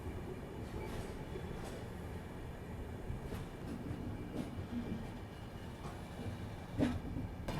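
Ahmedabad–Gorakhpur Express passenger train rolling out through a station, leaving by a platform line, with a steady rumble of wheels and carriages, occasional clicks and brief squeaks, heard from on board.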